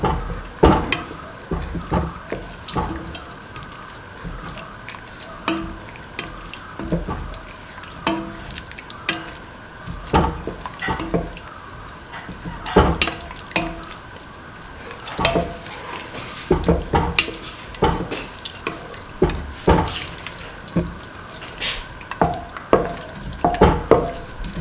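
A chili duck mixture being stirred and mixed in a pan, with repeated scraping and clattering strokes over a soft steady sizzle, close and moderately loud, with no talk.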